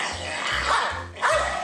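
A dog barks twice in quick succession, loud and near, over a repeating low thumping beat.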